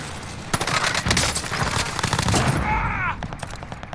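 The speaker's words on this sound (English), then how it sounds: "I'm taking fire." Video game gunfire aimed at the player: several loud, irregular bursts of rapid shots close by, with a whooshing, sweeping tone near the end and quieter ambience afterward.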